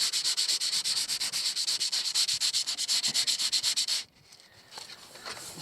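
Painted putty being rubbed down by hand, a steady rapid back-and-forth sanding scrape repeating for about four seconds, close and loud, then stopping abruptly into quiet room noise.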